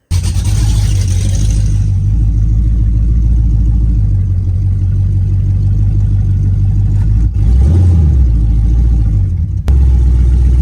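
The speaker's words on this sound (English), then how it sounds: "So we might take it for a little spin, take it down the road at his house" An LS-swapped Ford Mustang engine runs loud and close, holding a deep steady drone while driving, with throttle changes surging and easing the low rumble and a brief dip in the sound near the end; no talking.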